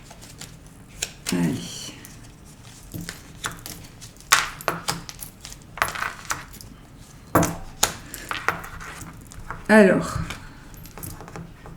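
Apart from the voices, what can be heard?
charms being shaken and cast for a reading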